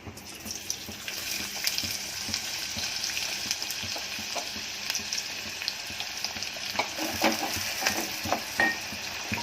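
Onions go into hot oil with cloves, black pepper, cardamom and cinnamon, and a steady sizzle builds with stirring and clattering scrapes, growing busier and louder toward the end, with no talking.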